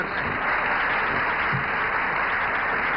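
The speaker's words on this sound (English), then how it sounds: "that certainly deserves applause" Audience applause in a studio setting, a dense, even wash of clapping that holds steady and fairly loud throughout, with no voices over it.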